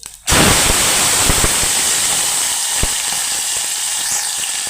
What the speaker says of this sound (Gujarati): પેલા થોડીક વઘાણી નાખી દેવી થોડુંક જીરું નાખી દેવી ધોળના દાણા નાખી દેવી